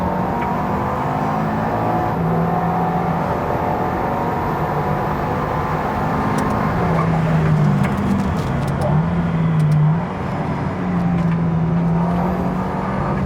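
KTM X-Bow GT-XR race car on track, its engine droning loudly and continuously from inside, with rising and falling tones as it accelerates and shifts through gears.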